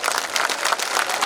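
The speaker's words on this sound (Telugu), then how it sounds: "ఒక్కసారి మీ అందరు చప్పట్లు." An audience at a public meeting claps in a short, dense burst of applause, many hands at once at a fairly steady level.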